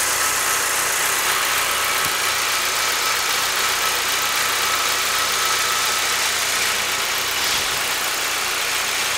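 A 2008 Saab 9-3 with the 2.0T engine idles steadily and loudly nearby, a constant even drone with a slight uneven roughness from a random misfire.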